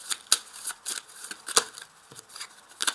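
Tarot cards being shuffled and drawn for a reading, a series of quick, crisp riffling and snapping bursts at close range, spaced irregularly with no talking.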